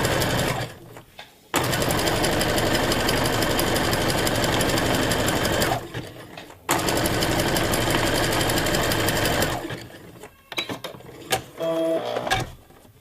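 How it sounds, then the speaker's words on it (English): A sewing machine runs a wide zigzag stitch at the same stitch length, in two long steady bursts of fast rhythmic mechanical chatter separated by brief pauses, ending with a few short stops and restarts. "So I'm simply sewing same length, only much higher width."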